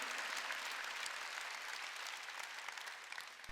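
A church congregation claps steadily during a Wednesday worship service. The applause forms a dense, even wash that stays strong throughout, with no voices over it.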